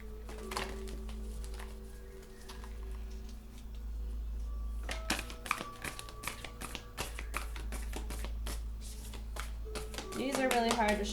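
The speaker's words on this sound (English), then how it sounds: "These are really hard to shuffle because I have small hands and these are big ass cards." Large oracle cards are shuffled by hand, crisp irregular taps and riffling clicks with brief flurries, heard close against a steady low hum.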